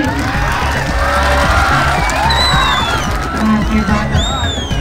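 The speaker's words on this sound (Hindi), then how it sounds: "ताली बजा के आशीर्वाद दे दीजिए भाई।" A show crowd in Darbhanga claps and cheers loudly and continuously, with shouts, whoops and whistles rising over a dense babble of voices.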